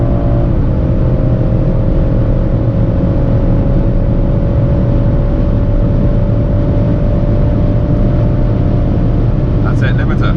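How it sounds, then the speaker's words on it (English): A car runs flat out on the German Autobahn, a loud, sustained engine and road roar held at near-constant pitch, with a voice speaking over it. "we were on the Autobahn, and I was, you know, maxing my car out, as were most people"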